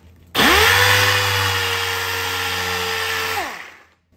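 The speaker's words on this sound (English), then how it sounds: "and I come and I sand it." A power sander runs steadily for about three seconds on a dented body panel of a 1966 Triumph GT6, starting abruptly with a loud whirring hum and spinning down at the end.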